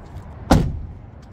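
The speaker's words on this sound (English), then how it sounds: "We can go ahead and close these doors." A car door slams shut once, a single loud, close thud with a short fade, heard alone against quiet background noise.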